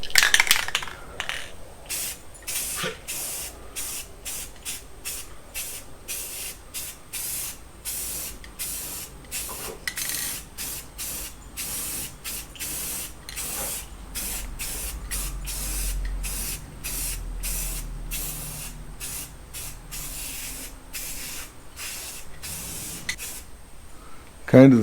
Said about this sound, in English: I'm going to use the same spray paint for this that I did for the face of the door.